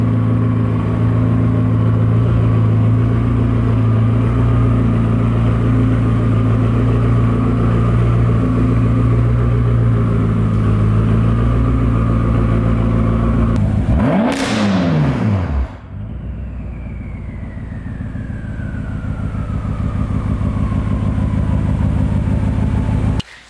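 A BMW M6 car being driven into a garage, its engine idling loudly with a strong, steady low hum, then a brief revving surge before it drops to a quieter run with a thin whine that fades and falls in pitch.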